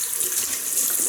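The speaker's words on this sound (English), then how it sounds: "Jersey Royal potatoes, which will be washed" Jersey Royal new potatoes are rinsed under a running kitchen tap, a steady close hiss of flowing water splashing into the sink throughout.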